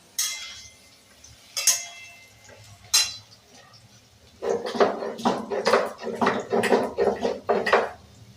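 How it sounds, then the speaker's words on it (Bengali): Poppy seeds and spices are ground on a shil grinding stone, a run of rhythmic rubbing, scraping strokes close by, after a few scattered clinks and knocks at the start. "শিলে মশলাটা করে নিই, পোস্ত শিলে না বাটলে হয় না।"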